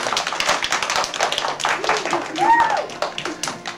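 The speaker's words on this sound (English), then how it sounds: "I'm gonna give them a round of applause." A kindergarten class gives a round of applause: many small hands clap in a quick, uneven patter throughout, fairly close and loud, while a few voices call out and talk over the clapping.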